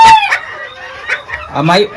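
Close, loud clucking and squawking from a small mini garnisé bantam hen being held by hand, in short bursts with brief pauses between them.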